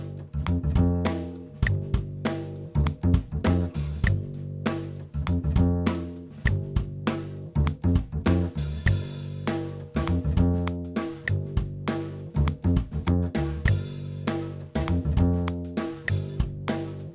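Comped multi-track drum grooves play back continuously in a Studio One session: a busy, steady kit pattern of kicks, snares and cymbals, close and dense with no talking.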